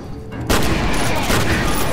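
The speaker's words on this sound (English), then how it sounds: "Ah, the shotgun! I love it so! Ba-bam! Kablooey!" A shotgun fires in the video game F.E.A.R. Extraction Point: a sudden loud blast after a brief quiet moment, followed by a dense, sustained roar of gunfire and explosive noise close up.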